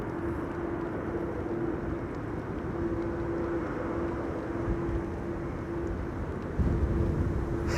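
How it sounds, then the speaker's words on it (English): A jet airliner landing at Amsterdam Schiphol Airport during Storm Amy, heard from a distance as a steady low engine roar with a faint droning hum, swelling slightly near the end. "he certainly landed the airplane beautifully"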